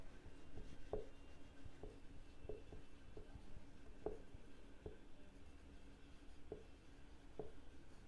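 A pen writes point coordinates by hand on paper, making soft scratchy strokes punctuated by distinct taps at irregular intervals, close and quiet with no talking.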